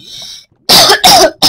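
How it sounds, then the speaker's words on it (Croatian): Three loud, harsh coughs from a sick person close up after a short quiet hiss, each burst abrupt and separated by brief pauses. "malo kašljem"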